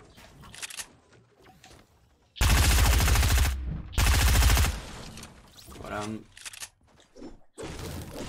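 Bursts of automatic gunfire from a submachine gun in Fortnite Battle Royale, loud rapid volleys in two main stretches with shorter shots later, mixed with game sounds and someone talking in Spanish.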